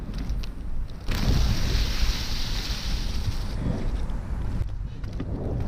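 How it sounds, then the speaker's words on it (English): Powerslide Kaze Tundra inline skates roll continuously through wet grass, a steady loud swishing rush with wind buffeting the microphone, swelling after the first second and easing slightly near the end. "Listen closely as you can actually hear the water in the grass."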